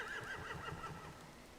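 Horses in The Walking Dead video game give a brief, faint, quavering whinny, heard alone and at a distance.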